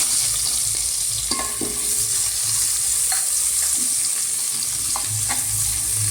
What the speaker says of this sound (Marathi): कांदा छान परतून घेऊया आपण